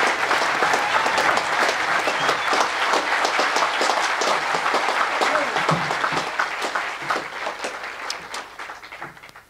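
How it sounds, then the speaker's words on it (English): A crowd at the 2011 Tahoe Summit applauds to welcome a speaker, with distinct individual claps within a sustained wash that holds steady and then gradually thins and fades toward the end. "give him a big round of applause and please warmly welcome him"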